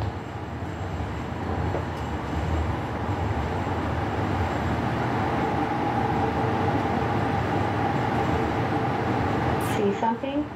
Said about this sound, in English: Green Line train to West Valley.